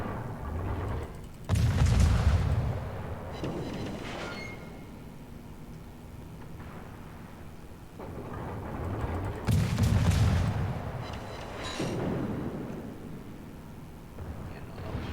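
A warship's main battery fires in World of Warships, two heavy booming salvos about eight seconds apart, each a deep, loud blast trailing into rumbling game ambience with smaller crackling impacts between.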